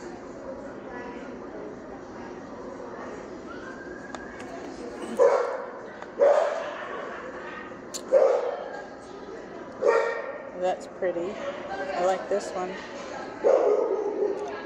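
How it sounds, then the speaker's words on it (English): A dog barks several times in short bursts, somewhat distant, inside a pet store while a person keeps talking casually over it. "Somebody's doggie's barking."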